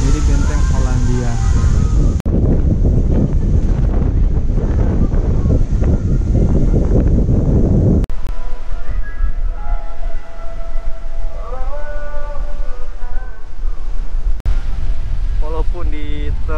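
Strong wind roars steadily across the microphone at Hollandia fort on Banda's Lontor island, a loud rushing buffet that lasts throughout, with softer stretches near the end.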